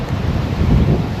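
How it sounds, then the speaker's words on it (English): Strong wind buffets the microphone outdoors on a very windy day beside an e-bike, a loud, continuous low roaring rumble with no talking. "Sorry, it's a super windy day."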